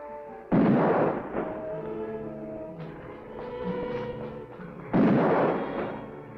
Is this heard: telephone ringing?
no